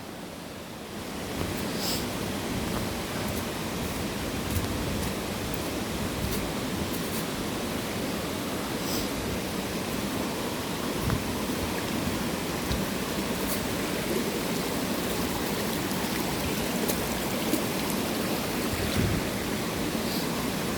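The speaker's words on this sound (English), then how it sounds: "Here's the waterfall" Canaries waterfall in Saint Lucia sends up a continuous, dense rushing roar that stays steady and close throughout.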